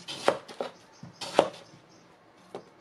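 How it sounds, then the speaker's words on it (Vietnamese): A knife chops through roasted ginger root, skin still on, on a cutting board: a few sharp, separate cuts in an uneven rhythm, close and clear with no talking. "Củ gừng cũng vậy luôn, không cần bỏ vỏ, mình chỉ cắt ra thôi"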